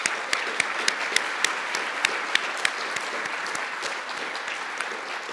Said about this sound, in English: I'd love for us to give a round of applause to Alex and the team